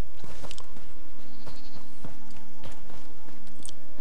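Sheep in The Elder Scrolls Online bleat near a farm barn, several loud nasal calls scattered over a few seconds with light footsteps and game ambience between them.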